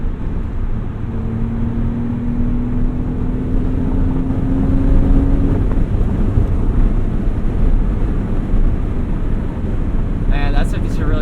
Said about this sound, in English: Nice throaty induction sound from the Dinan intake.